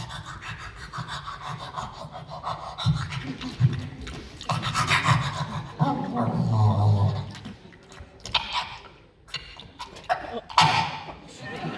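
A voice imitates a dog hacking up a fur ball, with rasping, wheezy, panting breaths and throaty coughs close to the microphone over nearly twelve seconds of strained, irregular bursts.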